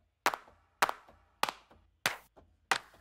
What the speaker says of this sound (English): I can play through all my favorite clap sounds on one keyboard or MIDI clip here.